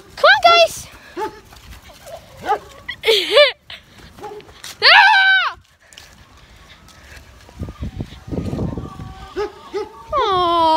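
Backyard chickens making loud, close squawks and clucks in scattered bursts, with excited voices of people talking among them.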